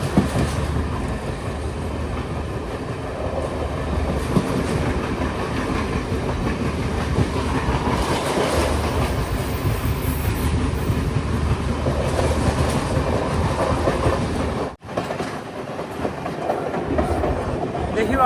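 Galu Kumari Express train running along the coastal line in Sri Lanka, heard as a continuous loud rumble with a steady clatter of wheels on track throughout and a brief dip near the end.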